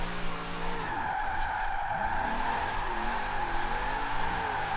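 A Bentley luxury car drifts in Forza Horizon 4, its steady engine drone running under a continuous, loud tire skid and squeal for several seconds, with no voices.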